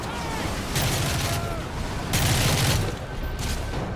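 Steady gunfire in Modern Warfare 3, two louder bursts of rapid fire rising above a constant dense wash of battle noise.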